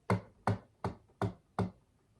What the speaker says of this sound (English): Next, there was a knock on the door.